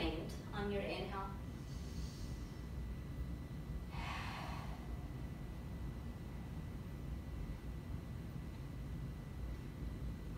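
Slow, deep yoga breaths: a sharp nasal inhale near the start and a longer airy exhale a few seconds later, soft and close over steady background hiss.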